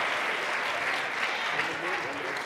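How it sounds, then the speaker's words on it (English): Audience applause at an event, a continuous even wash of many hands clapping at moderate volume throughout, with no pauses. "So please give them a round of applause."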